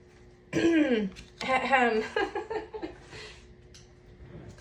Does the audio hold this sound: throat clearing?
yes